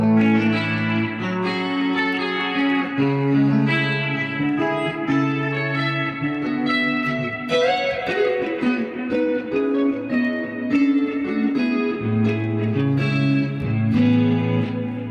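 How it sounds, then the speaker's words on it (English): Electric guitar run through a Memory Man echo pedal in a studio, a continuous melodic passage of chords and single notes with light repeating echoes trailing behind, steady and prominent throughout. "I can also put a memory man on it, which has a little extra echo"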